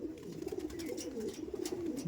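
A pair of Andhra Madrasi pigeons coos continuously, soft rolling calls overlapping in a close, unbroken murmur with little else around them.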